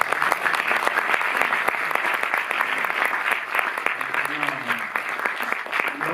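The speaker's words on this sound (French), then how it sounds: "Vous pouvez déjà commencer à l'applaudir chaleureusement." Warm applause from a cinema audience at the Cinémathèque in Paris, greeting director Gregorio Graziosi: dense, steady clapping from many hands that fills the room evenly, with a brief murmur of voices near the end.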